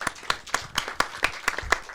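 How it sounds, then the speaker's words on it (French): Sparse, evenly spaced claps from a small audience on a French talk show, a few distinct hand claps in a steady rhythm, fairly faint. "On l'applaudit."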